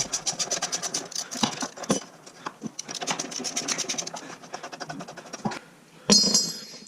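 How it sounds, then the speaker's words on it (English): An old bolt being worked out of a footpeg mount on an RM125 motorcycle: rapid ratcheting clicks and scraping metal in quick bursts, close up, ending in a sharp metallic clank. "first step, let's get this old bolt out of there"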